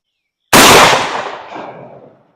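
A single loud Zveroboy slug fired from a rifled shotgun barrel on a range, a sudden heavy blast followed by a rolling echo that fades over about two seconds, heard alone.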